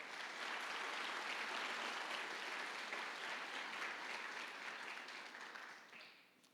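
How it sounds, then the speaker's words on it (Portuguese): Church congregation applauding together in steady, dense clapping that holds loud for several seconds and then thins and fades out toward the end, with no talk over it. "Você pode aplaudir esse amor que é eterno?"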